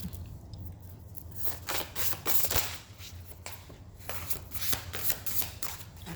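Crystal cards are shuffled by hand in quick repeated riffling bursts, close and crisp, with soft slides and taps of the deck between them and no voice.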